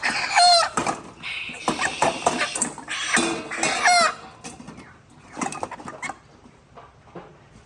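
A five-week-old broiler chicken clucks repeatedly and loudly while being set on a scale on a farm, with bursts of squawks and rustling, close to the listener and without talk.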